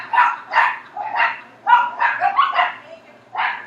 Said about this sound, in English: I apologize for the dogs barking if you can hear them.